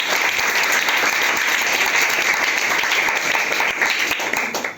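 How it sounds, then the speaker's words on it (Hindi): Loud, sustained clapping from a crowd at a coaching class prize-giving ceremony for a Class 10 physics test, an even wash of many hands that holds steady for several seconds before tapering at the end. "ताली जोरदार"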